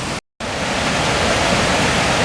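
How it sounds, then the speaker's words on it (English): Steady, full rushing roar of a small creek spilling over waterfalls on a hiking trail in Cheaha State Park, Alabama, loud and continuous after a brief dropout at the start. "Seems like the waterfalls never cease on this pretty little creek."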